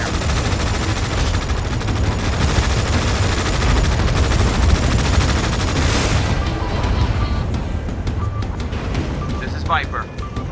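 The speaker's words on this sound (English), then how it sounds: "Opening fire." Gunfire in the video game Tom Clancy's EndWar rattles on continuously and loudly amid dense battle noise, with radio-style voices talking throughout.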